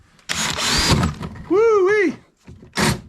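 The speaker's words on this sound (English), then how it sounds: "so I'm just going to start drilling some holes." A power drill bores holes into a fiberglass kayak in short bursts, loud and close, with one rising-and-falling whine as the motor speeds and slows between pauses.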